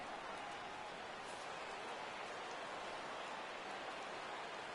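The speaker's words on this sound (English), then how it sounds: "The rain, as we've mentioned, coming down fairly steadily here at game time" Rain falls steadily at a ballpark in the baseball video game MLB The Show 2015, an even, unbroken hiss of drops holding at the same level throughout.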